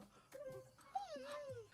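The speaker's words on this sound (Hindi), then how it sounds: "कुत्ता है ये।" A dog in a film whimpers with thin, high whines that rise and fall over about a second, fairly faint and mixed with other film sound.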